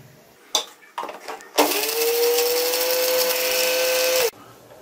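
A mixer grinder grinds roasted spice masala for a Bihari-style mutton curry. After a few knocks, it roars loudly and steadily with a high whine for almost three seconds, then stops abruptly.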